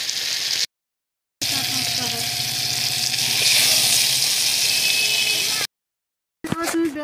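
Eggplant and potato pieces, seasoned with turmeric and salt, fry in a pan with a steady, close hiss and sizzle that cuts out briefly twice. A short burst of other sound comes at the end.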